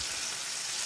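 Blackened shrimp sizzle steadily in a hot frying pan, a dense, loud, continuous hiss of frying heard up close with no talking.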